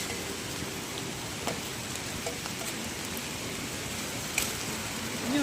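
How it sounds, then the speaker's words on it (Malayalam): Steady rain falls outdoors under trees during fruit picking, a constant even hiss with occasional louder drops striking nearby surfaces, moderately close. "മഴ നനയും"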